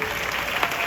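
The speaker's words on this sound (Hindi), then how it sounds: "जोरदार तालियों से इस कलाकृति के लिए हम सभी कलाकारों का भी अभिनंदन" An audience at a Savarkar tribute event in India applauds, a dense, steady burst of clapping from many hands, fairly close and sustained throughout.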